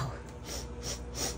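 Three quick, close nasal sniffs in succession as someone smells cooked crab in a sink, short breathy bursts with no talk over them.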